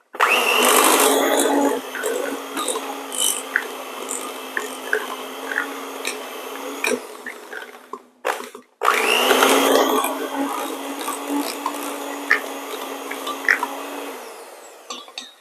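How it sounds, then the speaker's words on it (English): An electric mixer whirs steadily through chocolate pound cake batter, a loud close motor drone that cuts out briefly midway and then resumes, with a rattle of beaters against the bowl. "We're going to get our handy dandy mixer here. We're going to mix this up."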